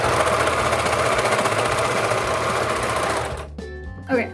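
An inherited serger sewing machine runs at speed with a dense, steady mechanical chatter and hum, close and loud, then winds down and stops near the end.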